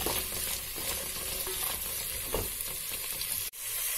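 Carrots and beans frying in a pan of oil for vegetable biryani, a steady close sizzle that runs continuously with a few stirring scrapes and a brief dip near the end.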